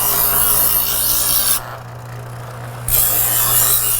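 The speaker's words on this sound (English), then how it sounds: "I've never actually run this one through the 15-degree sharpener" Knife blade drawn through a 15-degree sharpener, giving a steady, loud rasping scrape that stops for about a second in the middle and then resumes.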